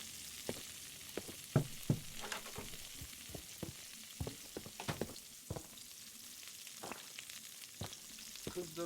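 Veal frying in a pan inside the video game Adios, a steady close sizzle broken by scattered clicks and knocks of cooking and handling, with no talking.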